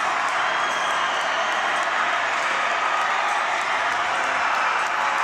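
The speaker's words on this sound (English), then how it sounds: "And the crowd is deafening" A loud, dense crowd roars and cheers without pause at a boys' high school hockey state semifinal as the Brookings Rangers score the game winner against the Oahe Capitals.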